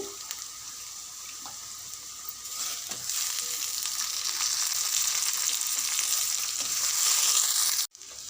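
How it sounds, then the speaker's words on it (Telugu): Raw plantain pieces, soaked in salt water, dropped into hot oil with frying onions and green chillies, a steady close sizzle that swells louder as the wet pieces hit the pan, ending in an abrupt cut. "ఉల్లిపాయలు పచ్చిమిరపకాయలు మంచిగా వేగిపోయినవి ఇప్పుడు కట్ చేసి ఉప్పు నీళ్ళలో పెట్టుకున్న అరటికాయ ముక్కలు వేసుకోవాలి"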